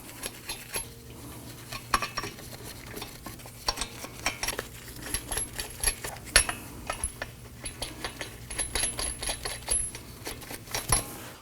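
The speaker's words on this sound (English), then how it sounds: "Let's go ahead and get all of our lug nuts started." Lug nuts being threaded by hand onto a 2018-2024 Toyota Camry wheel make a busy run of light metallic clicks, rattles and jangles up close, uneven and continuous, with no talking.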